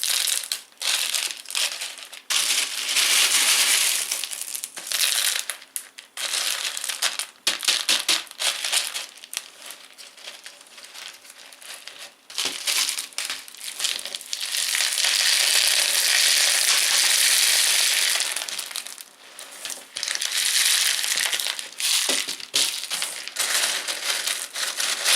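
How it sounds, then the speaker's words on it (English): Small pebbles poured into an orchid pot around a dendrobium speciosum's roots for semi hydro growing, a loud dense rattling and crunching stream that comes in long surges with short gaps, close and alone. "You really want to make sure that the pebbles will go in between the roots."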